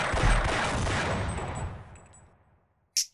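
Enemy gunfire in Half-Life: a loud, dense burst of rapid shots fills about two and a half seconds, then fades away, with one short sharp report near the end.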